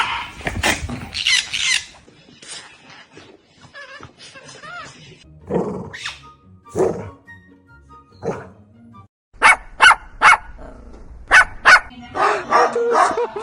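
A puppy barks and yips in short bursts, fairly close, with people talking in between the barks.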